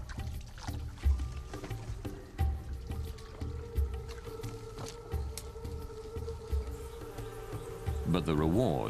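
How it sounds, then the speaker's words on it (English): Bees swarm around wild honey hives in a tiger-inhabited Indian forest, a dense, close buzzing that drones steadily with rising and falling pitch under faint background sounds. "hives dripping with bees and honey."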